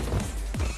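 A bicycle slams into a taxi that has braked suddenly in a film scene, a brief hard crash and thump followed by a second impact, loud over a busy background.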